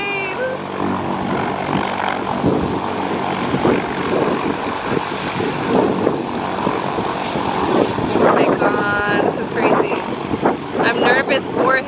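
Loud, steady droning engine of a skydiving plane runs close by before a jump, with people talking excitedly over it.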